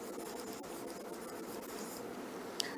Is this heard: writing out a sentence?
yes